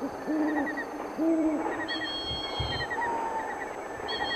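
Owl chicks call repeatedly for a parent, giving short, rising and falling hoot-like cries in bursts, some overlapping, over faint background noise.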